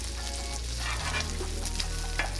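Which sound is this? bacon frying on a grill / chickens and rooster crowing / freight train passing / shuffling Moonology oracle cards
bacon frying on a grill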